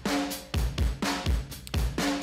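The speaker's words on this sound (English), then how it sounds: "So that little that drum loop that I was just playing you, that sounds like this." An original drum loop for an electronic music production, punchy kicks and snappy hits repeating in a tight, steady groove, dry and upfront with no voices.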